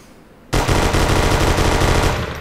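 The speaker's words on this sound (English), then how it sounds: "After I changed the Thompson sound effect" A modded Thompson submachine gun sound effect in GTA IV fires one loud, continuous rapid burst that starts abruptly and rattles on for about two seconds at close range.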